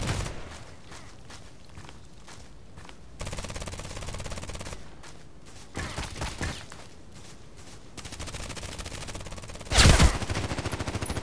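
Shots ring out in the online shooter Contract Wars, a few distinct bursts scattered among quieter stretches of footsteps and ambient game noise, with one loud sharp blast near the end.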